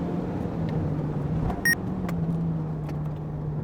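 A small sub-150 hp car runs a timed attack up a narrow mountain pass road slick with moss and fallen leaves, its engine a steady low drone with faint road noise and a brief sharp tick partway through.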